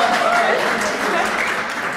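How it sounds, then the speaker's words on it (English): Audience applause at a scholars variety program, a dense continuous wash of clapping with cheering voices mixed in, steady and fairly loud for the whole stretch. "can I hear a loud applause?"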